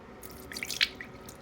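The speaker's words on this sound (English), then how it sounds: "I activate my toothbrush with the water that I created" Water drips and splashes briefly as a toothbrush is wetted under a bathroom tap, a few quick bright plinks close by over a soft running-water hiss.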